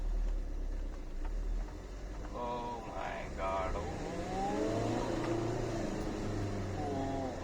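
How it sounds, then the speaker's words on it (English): A 2007 Swift DDiS diesel car engine drones steadily from inside the cabin, then climbs in pitch as it revs and accelerates away in first gear, with a man exclaiming over the engine noise. "it's a high revving engine even though it's a diesel"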